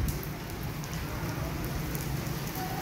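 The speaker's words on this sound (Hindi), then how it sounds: "तूफान है इतनी तेज़ बारिश।" Heavy storm rain pours steadily onto surfaces around a house, a dense continuous hiss with no breaks, heard alone at moderate level.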